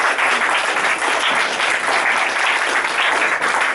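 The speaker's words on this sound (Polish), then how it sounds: "Proszę o brawa dla jurorów." An audience at a school poetry recitation contest in Trzciana claps for the jurors in a continuous, even burst of applause close by, with no break in the clapping.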